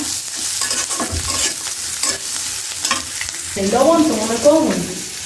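Cut vegetables frying with spice paste in a pan, loud close sizzling and stirring scrapes throughout, growing busier and brighter toward the end.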